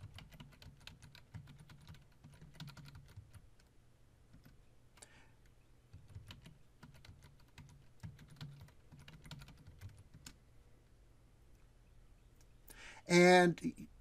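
A password is typed on a computer keyboard, with quiet irregular bursts of key clicks spread through the stretch and a louder clack near the end.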